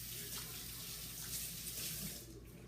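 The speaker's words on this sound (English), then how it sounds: "Problem with this is you gotta keep rinsing your hands every few minutes." A kitchen tap runs steadily into a sink while hands are rinsed during meal prep, a close, even rush of water that eases off slightly near the end.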